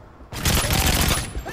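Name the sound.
rapid gunfire in the video game Call of Duty MW3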